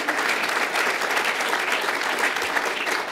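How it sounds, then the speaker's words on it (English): Steady, dense applause from an audience at a civic gathering on Chicago's financial future, continuous and even throughout, with no voices standing out. "Let's give him a round of applause for the work that he's done"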